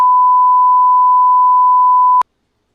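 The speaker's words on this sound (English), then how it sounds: "or is it just one beep?" A single sustained electronic beep from a device, a pure steady tone held for about two seconds before cutting off abruptly into silence.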